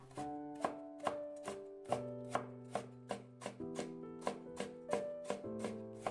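A knife cuts half a carrot into thin strips on a cutting board, giving a steady run of crisp, sharp chops at a quick, even rhythm, close and clear with no voices.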